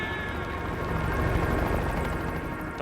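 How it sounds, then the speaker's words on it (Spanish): Helicopter rotor blades beat close by in a steady, loud whirring chop that continues without a break and with no voices over it. "El sonido de las aspas del rotor se siente muy cerca."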